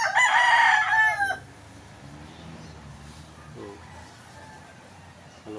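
A rooster crows loudly and close by for about a second, then low background farmyard noise and faint clucking follow.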